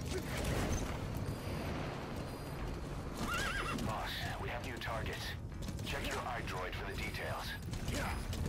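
D-Horse, the horse in Metal Gear Solid V, neighs in a loud whinny over clip-clopping hooves and mechanical game sounds. Someone talks over it.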